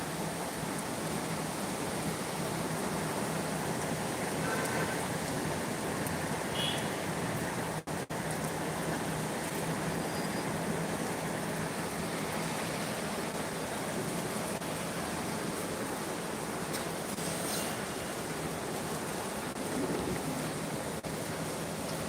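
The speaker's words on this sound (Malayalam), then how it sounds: "മഴ നിന്നിട്ടൊന്നുമില്ല കേട്ടാ" Steady rain falling over Kozhikode, a dense even hiss with a broad wash of drops and faint background hum, continuous at constant loudness throughout with no talk.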